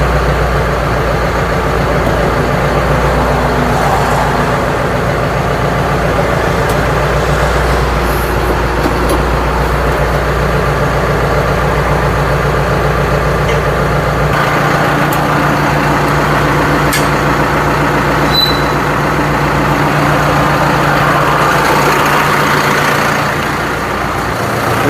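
Tractor engine running steadily while a hydraulic log splitter is mounted to its hitch, a loud, continuous low idling rumble held close with little variation throughout.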